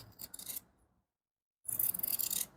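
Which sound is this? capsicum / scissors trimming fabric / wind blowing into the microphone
scissors trimming fabric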